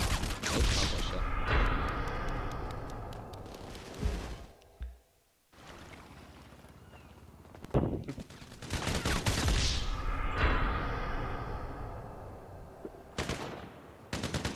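Gunfire in the game GTA 5 Online during a race: dense, sustained bursts of automatic shots rattle on for long stretches, broken by one short quiet gap, with a mechanical drone underneath.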